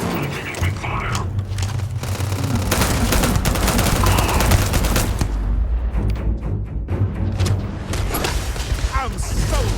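Gunfire in the video game Starfield, a dense run of rapid shots and bursts with booms, loud and continuous across the whole stretch with game effects layered in.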